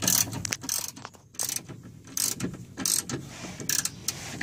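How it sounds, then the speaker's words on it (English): A 14 mm wrench works on the sway bar link bolt of a Honda Accord, giving short metallic ratcheting clicks in separate bursts with quiet gaps, close by and without talk. "I guess I should just put that wrench on the back side, that 14 millimeter."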